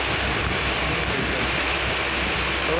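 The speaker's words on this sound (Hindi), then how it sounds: "પાણી પડે" Heavy rain and falling water pour down in a steady, loud, unbroken roar that fills the whole scene with dense hiss and low rumble, with no pauses.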